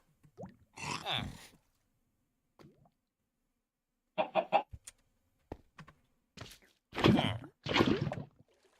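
A chicken in a Minecraft Skyblock game clucks in a few short bursts separated by quiet gaps, along with small plopping sounds, with no talk.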